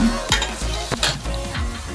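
A sarvapindi rice flatbread, Telangana style, is flipped in a pan and keeps cooking with a close, crackling sizzle broken by a few sharp spatula taps and scrapes.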